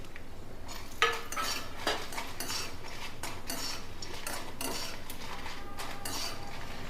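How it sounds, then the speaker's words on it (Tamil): Dried red chillies and asafoetida fried in oil in a metal pan, heard as a steady background sizzle broken by scrapes and clinks of a metal spoon stirring against the pan, close and moderately quiet, with no voices. "மிளகாயும் பெருங்காயத்தையும் முதல்ல வந்து எண்ணெய் விட்டு வறுத்துட்டுரும்."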